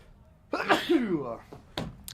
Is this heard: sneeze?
yes